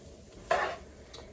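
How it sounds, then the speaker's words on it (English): Ramen noodles frying in butter with vegetables in a pan, with a short burst of stirring and scraping at mid-clip and light clinks near the end. "we're just going to work on frying this up until the ramen starts taking on a nice golden brown color"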